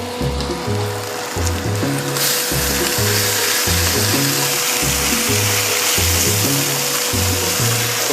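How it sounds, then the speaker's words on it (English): Ginger being stirred in a hot pan, with a steady frying sizzle throughout and repeated scraping strokes in a regular rhythm, loud and close, no talk. "Stir that up real quick."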